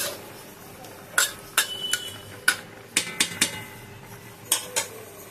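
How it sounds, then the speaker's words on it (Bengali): A metal spatula stirring hilsa fish curry with mustard paste and brinjal in a brass wok: scattered, sharp metallic clinks and taps, a few of them in quick clusters, over quiet kitchen background. "একটু খুন্তি দিয়ে নাড়িয়ে দেবো।"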